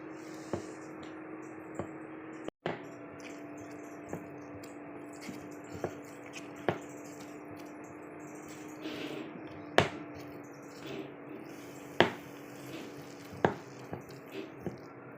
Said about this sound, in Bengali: নেড়ে ভালো করে মিশিয়ে নিতে হবে।